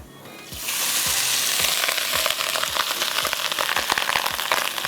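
Rice and garlic frying in a pan for fried rice, a loud, dense sizzle that surges in after a quiet start and holds steady with crackling and stirring taps, no voices.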